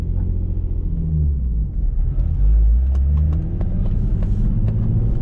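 A Nissan 350Z with an upgraded stage 3 clutch rumbles low and steady, building as it accelerates hard, with a few sharp clicks and pops over the deep drone.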